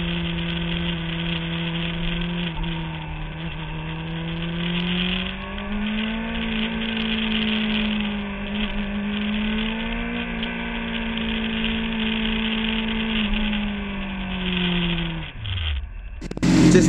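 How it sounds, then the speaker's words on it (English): A Honda CBR600RR motorcycle engine runs nearby for a long stretch, holding a steady idle drone with gentle rises and dips in pitch before the sound shifts and a louder burst arrives at the end; no one speaks. "I left the engine running because I wanted to reiterate the sound of this thing"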